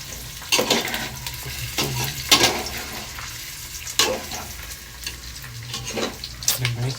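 Food sautés in plenty of oil in a pan, a soft steady sizzle broken by repeated scraping and clanking as the utensil stirs against the pan, close by and without talking.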